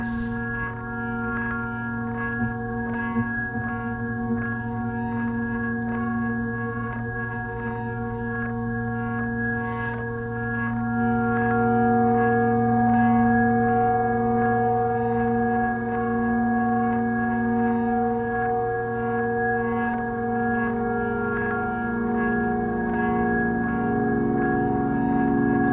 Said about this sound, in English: here's what the Twin 3 synth can sound like.